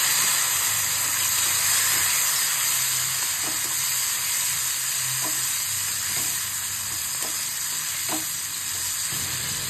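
Garlic fries in hot oil for tempering a fish curry, giving a steady loud sizzle with a few faint clinks, close and continuous with no talk.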